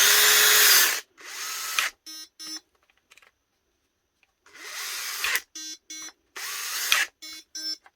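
A Metabo cordless drill whirs loudly in bursts, interrupted by short electronic beeps, with a quiet pause in the middle before the motor runs again.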